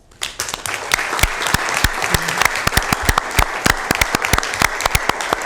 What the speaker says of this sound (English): we'd like to give our award winners one more round of applause